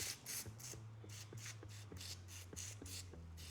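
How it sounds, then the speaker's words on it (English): A fungicide sprayed onto a rotting pineapple plant in a series of short, quiet hissing bursts, about ten quick sprays in steady rhythm over a low background hum. "I am gonna spray it with a fungicide."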